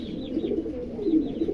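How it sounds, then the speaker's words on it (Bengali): A pair of large king pigeons coo nearby: low, throaty, rolling calls repeating in a steady rhythm, with no other sound competing. "এখানে এক জোড়া হাউস পিজন আছে, দেখেন চমৎকার এক জোড়া হাউস পিজন"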